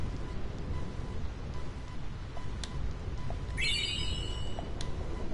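A Thunder Plains thunderstorm in a video game gives a steady low rumble of rain and wind, with a few faint sharp cracks and a brief high sweeping tone partway through.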